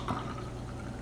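Blood orange lemonade pours into a Prosecco glass already half full of Prosecco, a soft, close, steady liquid trickle and fizz lasting about a second, with no talking.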